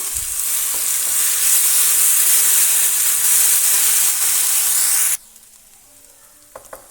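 Tomato paste roasts in a hot pan for a restaurant-style egg masala gravy, giving a loud, steady sizzle and hiss for about five seconds before cutting off abruptly to near quiet with a couple of faint clicks.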